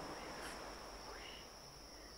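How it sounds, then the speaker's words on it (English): Faint, steady high-pitched cricket chirping over a soft background hiss, distant and continuous throughout. "You can hear the crickets in the background"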